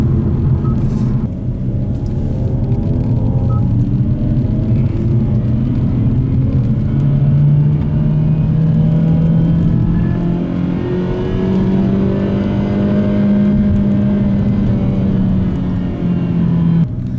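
A synthetic active engine sound from a Hyundai Avante N (Elantra N) revs up and holds, its pitch rising and falling through long sweeps over a steady rumble, loud and continuous without speech.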